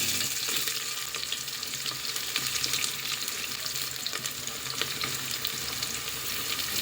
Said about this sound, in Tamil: வெங்காயத்தை சேர்த்து வதக்கி விட்டுக்கலாம்.